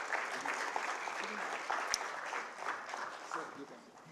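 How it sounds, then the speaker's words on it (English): Audience applause at an economic dialogue conference as a panelist is presented with a memento, with sustained moderate clapping from a seated crowd and a few sharper individual claps standing out. "Round of applause, please."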